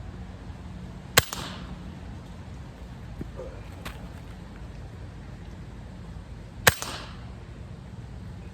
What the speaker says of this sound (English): I'm gonna shoot for center target,